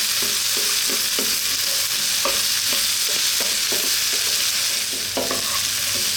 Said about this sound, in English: Now we're going to go in with our onion, sliced onion, and staying on this heat.